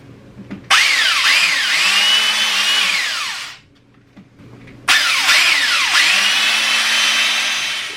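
A drill drives a water pump in two bursts, each starting with a sharp whine and running steadily for a few seconds, separated by a short pause.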